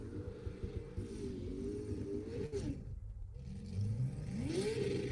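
A 1974 classic Australian V8 touring car runs up a hill at a motoring festival, its engine note rising and falling through gear changes, revving hard, then dipping briefly before climbing again, heard from the roadside at moderate distance.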